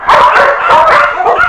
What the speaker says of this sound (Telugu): బజార్లోకి వెళ్తే కుక్కలు వెంట పడతాయి.